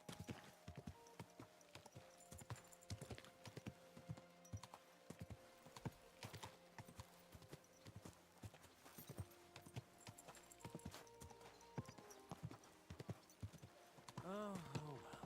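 Rhythmic clip-clop of horse hooves trotting steadily in the video game Kingdom Come: Deliverance 2, fairly close, with a few louder thuds and a rising whinny-like tone near the end.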